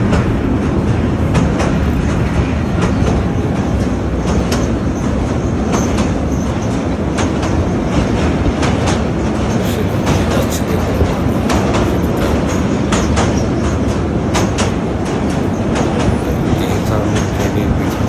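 Steady, loud rumble of a moving passenger train heard from inside the carriage on a Dhaka to Brahmanbaria journey, with continuous rail noise and repeated wheel clacks running throughout.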